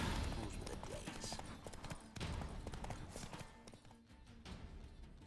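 Hooves of Roach, a horse in The Witcher 3, clip-clop in a steady trotting rhythm, fairly close, with faint in-game speech in the background.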